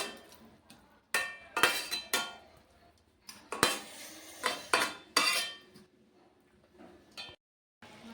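A lid set over a pot while cooking mochar kopta, with several sharp metallic clanks and clatters of pot and utensils, close and separated by brief pauses, with no talk.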